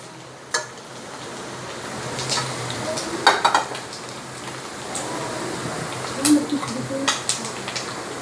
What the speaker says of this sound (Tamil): அட சாலை மீன் நல்லா பொரிஞ்சிட்டு பாருங்க.